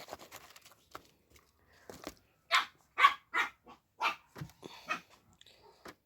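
A dog barks in a quick series of sharp yaps, fairly close, with short pauses between bursts and no talking.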